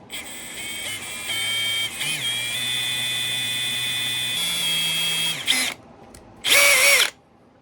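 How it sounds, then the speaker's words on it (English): A small power drill with a 1/16 inch bit bores a tiny hole through a metal zipper pull, whining steadily at close range for several seconds with brief pitch shifts, then stopping before a final short burst. "This was a 1/16 drill bit, and I drilled a nice tiny little hole."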